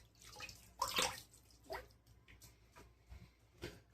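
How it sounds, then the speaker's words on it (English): Water splashes as a man wets his face before a wet shave, a few bursts of splashing and dripping close by, loudest near the first second, with quieter splashes following. "I gotta get my face a little wet here."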